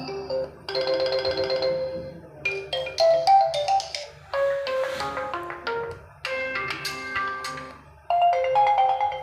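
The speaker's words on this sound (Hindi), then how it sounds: "आप देख सकते हैं यहाँ पर डिफरेंट डिफरेंट टाइप की जो आपको रिंगटोन दी जा रही हैं" An Oppo F19 smartphone plays several different ringtone melodies one after another, each a short bright chiming tune with brief gaps between them, close and clear.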